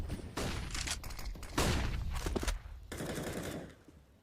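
Automatic rifle fire in a Counter-Strike match on the Vertigo map, rapid bursts of gunshots repeating over several seconds in close succession, loud and without talk.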